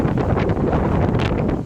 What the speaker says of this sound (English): Wow, check out the wind.